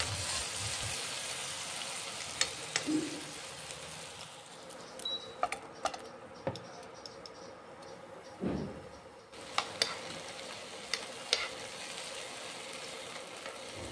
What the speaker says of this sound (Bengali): টমেটো আর ক্যাপসিকাম নরম হয়ে আসা পর্যন্ত আমি কিন্তু এভাবে হালকা করে ভাজতে থাকবো।